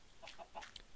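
Chickens in Minecraft cluck in a few short, close, game-style calls spread across a single second, with no one speaking over them.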